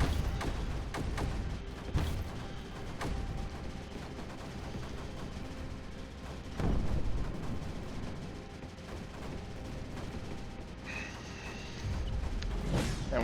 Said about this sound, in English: Move up our cannons, have them shoot some things, cause why not?